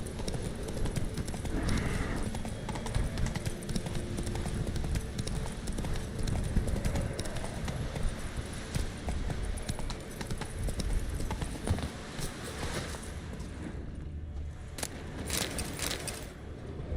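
Rhythmic hoofbeats of a galloping horse in the video game The Witcher 3, a dense continuous clip-clop under game music and ambience, with a brief whinny-like burst near the end.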